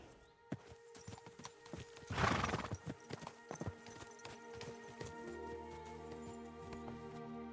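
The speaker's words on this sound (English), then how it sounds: "this is why you upgrade your horse, so you can win every horse race" Hooves clop rapidly in an irregular galloping rhythm during a horse race in the video game Kingdom Come: Deliverance 2, with a horse whinnying loudly partway through, close and busy.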